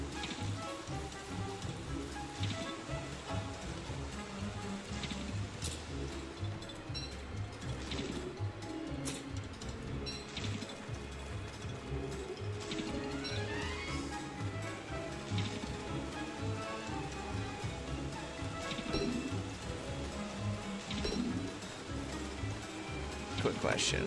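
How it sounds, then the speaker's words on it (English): Steady rain pattering continuously in the video game Don't Starve, an even wash of drops that carries throughout at low volume. "the rain's mostly irritating me because of the fact that it's happening so often"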